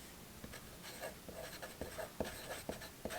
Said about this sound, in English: Sounds like a charcoal pencil.